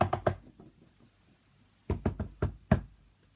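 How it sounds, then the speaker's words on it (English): Knocks on a house door at night, three quick loud raps, a pause, then a second burst of four sharp knocks, close and dry with silence between. "he heard a knocking."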